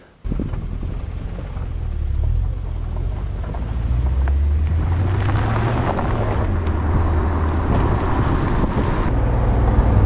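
A 2003 BMW Z8 Roadster with only 22,700 km, in like-new condition, drives along with a steady engine drone and heavy wind rush buffeting the microphone, continuous and fairly loud throughout.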